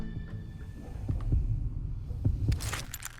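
Thudding heartbeat pulses from the Call of Juarez: Gunslinger video game, with deep low beats in a slow rhythm, followed by brief metallic jingling near the end.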